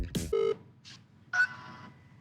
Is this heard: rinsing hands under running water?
no